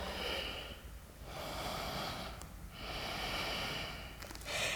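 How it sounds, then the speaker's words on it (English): Deep breaths during a yoga pose, slow nasal inhales and exhales repeated in a steady rhythm, close and soft, with pauses between each breath. "Take one last breath."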